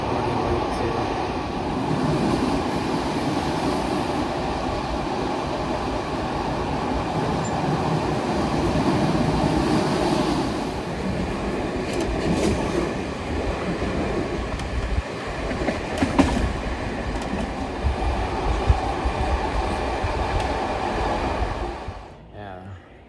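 Bulgarian Railways passenger train running between Sofia and Pleven, a steady loud rumble of the carriage with rail clatter and occasional sharp clicks, continuous throughout before cutting off abruptly at the end.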